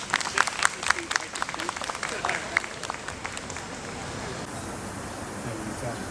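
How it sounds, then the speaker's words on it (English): Guests at a welcoming address applaud with crisp, dense clapping that gradually thins and fades into quiet room tone after a few seconds. "Please give a big round of applause for Dr. Krissanapong Kirtikara."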